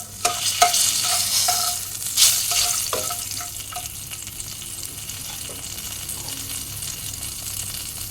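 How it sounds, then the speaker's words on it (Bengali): A single bay leaf drops into hot oil and sizzles, with a burst of crackles and pops in the first few seconds that settles into a softer, steady hiss. "একটা তেজপাতা দিয়ে দেবো।"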